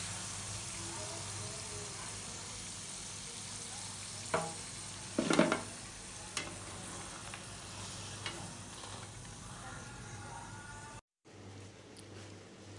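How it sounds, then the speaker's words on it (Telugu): Potato bajji deep frying in hot oil, a dense continuous crackling sizzle close by, with a few brief clatters of a utensil in the middle before it cuts off near the end. "గోల్డెన్ బ్రౌన్ కలర్ వచ్చేంత వరకు మనము డీప్ ఫ్రై చేసుకోవాలి"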